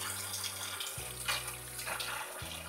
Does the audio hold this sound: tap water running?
yes